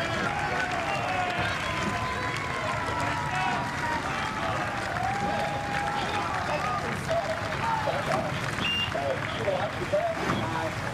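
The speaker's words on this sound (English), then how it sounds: "we hear the applause from the crowd." Crowd applause and cheering at the Henley Royal Regatta rowing finish, a steady wash of clapping and voices along the riverbank as the crews cross the line, with a commentator talking over it.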